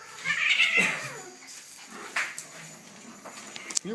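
A cat giving a loud, drawn-out caterwauling yowl, followed by quieter scuffling and a few faint thumps nearby.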